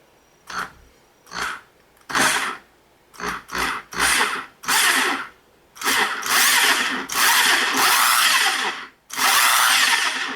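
A repaired power tool motor whirs in repeated short bursts under test, each spin roughly a second or longer, growing into longer sustained runs toward the end, loud and close.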